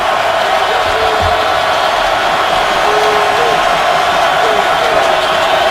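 A large football stadium crowd roars steadily through a Steelers at Ravens game in Baltimore, a dense continuous wash of cheering and whoops with no break.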